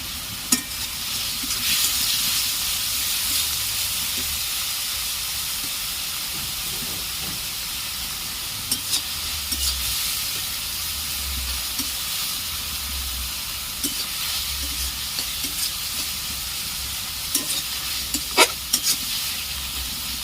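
Ginger paste fries in hot oil for a jackfruit and prawn curry, a loud continuous hiss and sizzle running throughout, with scattered sharp scrapes of a stirring spoon toward the end.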